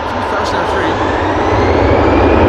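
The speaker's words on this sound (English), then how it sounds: "BBN Cargo on behalf of Turkish to Istanbul, A321" A 21-year-old BBN Cargo Airbus A321 bound for Istanbul takes off at Amsterdam Schiphol, its jet engines a loud, dense roar that builds steadily.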